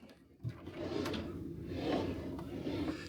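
Drawers in a compact cruise ship ocean view stateroom are pulled open and pushed shut, a short bump followed by a few seconds of sliding rumble, close by and fairly quiet.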